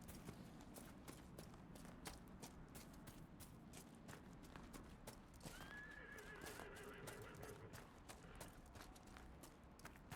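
Very faint horse hooves in the Dragon Age Inquisition video game, a steady clip-clop at walking pace, with a short whinny partway through.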